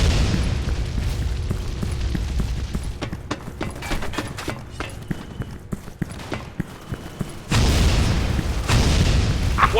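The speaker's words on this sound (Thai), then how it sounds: "ยัดระเบิดแล้ว ระเบิดหาที่กำบังว่าง" A planted bomb detonates in a shooter video game with a sudden loud, sustained blast near the end, following scattered gunfire pops and thumps.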